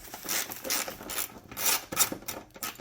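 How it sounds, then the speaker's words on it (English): Bumper bolts are ratcheted out of a Mitsubishi 3000GT (Stealth R/T Turbo) in a shop, giving several bursts of close, quick metallic ratchet clicking with short pauses between them and no talking. "So we're going to take these bolts out of here."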